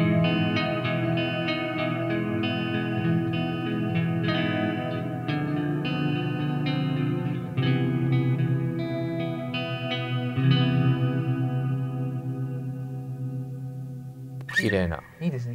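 Electric guitar played through a reverb effects pedal, a series of strummed chords and picked notes ringing out with long washy tails, ending in a short burst of noise.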